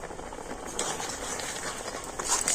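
Milk at a rolling boil in a pot as semolina is poured in for a carrot sweet, with a steady bubbling hiss and faint scraping clinks throughout.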